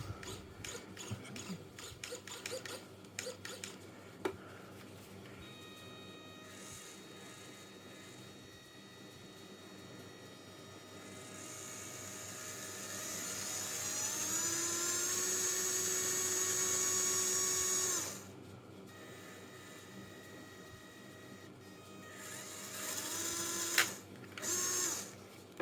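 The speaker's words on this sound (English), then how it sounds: "Steering seems quite decent. Is a body mounted servo." The body-mounted steering servo of an Eazy-rc Bronx RC car whirs in short mechanical bursts and rising whines, with one long sustained whine near the middle and a few brief twitches near the end, all quiet and close.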